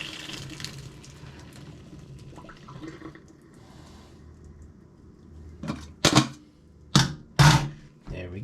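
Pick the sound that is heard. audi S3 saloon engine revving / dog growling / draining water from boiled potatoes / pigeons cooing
draining water from boiled potatoes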